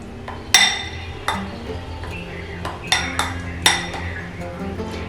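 A utensil mixes chana dal batter ingredients in a bowl, clinking and scraping against the sides in a loose, uneven rhythm of sharp close knocks with quieter stirring between them.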